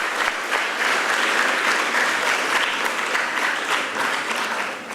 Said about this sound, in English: Can we give a round of applause for all the contestants?